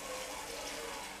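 A little water pours steadily into a drumstick (murungakkai) gravy cooking with masala, a soft continuous splashing trickle, fairly quiet and without talk.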